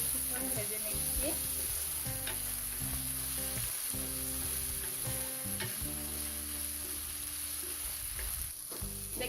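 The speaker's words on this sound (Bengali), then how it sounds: "এখন এই সব কিছুকে আমি কিছুক্ষণ ভেজে নিচ্ছি।" Green peas and whole spices frying in a pan give a steady sizzle with frequent stirring scrapes and knocks. Faint tonal hum and voice-like sounds run underneath.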